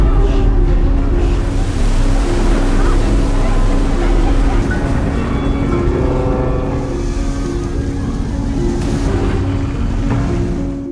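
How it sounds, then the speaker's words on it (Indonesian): Ship drawing closer at sea in a survival film, a heavy low engine drone with water and wave rush, loud and steady throughout. "kapal itu semakin mendekat dan menjadi lebih dekat ke arah mereka guys"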